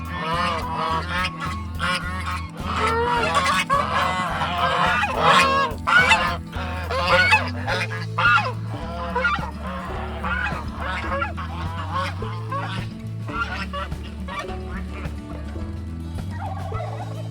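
Several farm geese honk loudly and repeatedly over a steady low mechanical hum, calls overlapping in dense bursts that ease off toward the end; a gosling-rearing flock breeding in unusually warm autumn weather.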